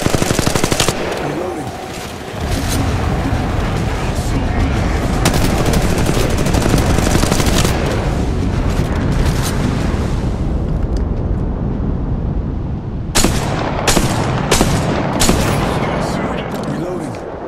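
Rapid automatic gunfire from the mobile battle royale game Apex Legends Mobile, loud sustained bursts with a brief pause, then a lull and sharper renewed shots near the end, amid dense game effects.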